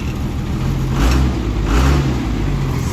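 Swapped Cummins diesel in a Mack A40 truck idling loud and close, with two rising throttle blips that swell and settle back into a rumbling drone.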